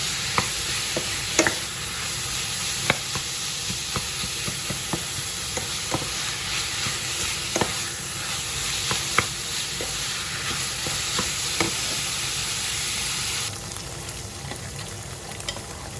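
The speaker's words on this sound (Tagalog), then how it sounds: "haluin lang natin" Vegetables such as carrots and celery sautéing in a pan for lasagna sauce, with a steady loud sizzle and intermittent scraping stirs of a utensil. No talking.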